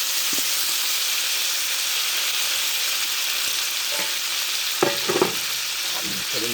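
Beef sizzles in rendered beef fat, a loud, even frying hiss running throughout, with a few utensil scrapes and knocks near the end.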